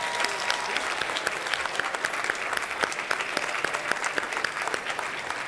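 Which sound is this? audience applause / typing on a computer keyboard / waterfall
audience applause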